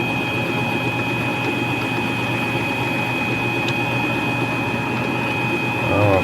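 A lathe turning a primer gun part, its steady mechanical whir and motor drone holding constant and loud with a faint tonal whine and a slight swell at the end.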